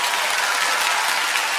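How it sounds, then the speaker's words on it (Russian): Loud, dense audience applause in a television comedy show studio, continuous and even throughout with no talking over it. "Это громкие аплодисменты."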